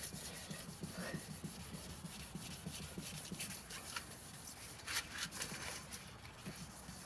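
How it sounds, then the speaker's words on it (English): Quiet, steady rubbing and scraping of 2000 grit sandpaper back and forth on a car headlamp in a continuous rhythm, close up, with no talking. "I'm going to take my 2000 grit sandpaper"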